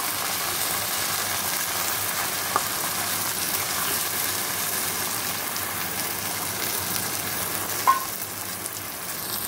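Taro greens and chickpeas fry in a pan with a continuous soft hiss and sizzle, a few faint stirring touches and a brief clack near the end, close and even with no voices.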